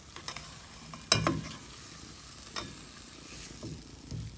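Pois du Cap cooks with graton in a pot, a soft steady sizzle broken by a few sharp scraping stirs of a spoon against the pot; no talk.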